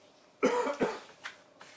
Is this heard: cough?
yes